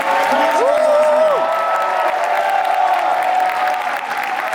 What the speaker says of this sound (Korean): 여러분 뜨거운 박수로 FC 안양의 김현진님을